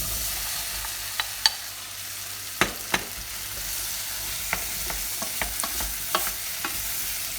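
Apples stirred into melted butter in a pan for compote, with a soft, steady sizzle under scattered light clicks and scrapes of the spoon against the pan.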